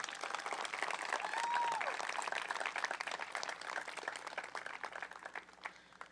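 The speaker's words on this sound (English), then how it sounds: "Let's give them all a round of applause." Steady applause from a graduation ceremony audience fills the space, a dense, even patter of many hands clapping at moderate distance, with a faint whistle or cheer briefly rising over it before the clapping gradually thins out.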